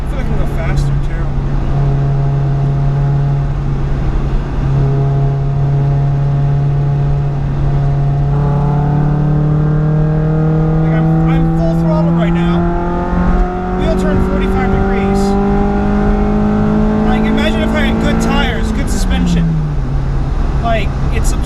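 A cheap used car driven at about 50 mph through South Florida streets, its engine drone steady and loud throughout with rising revs and a gear-change sweep near the end, tire and road noise underneath, and a voice talking over it.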